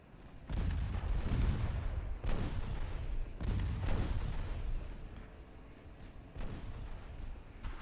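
Heavy naval guns boom in a warship battle in the game Ultimate Admiral Dreadnoughts, with several deep, rolling blasts spaced a second or so apart, loud and reverberant with no talking.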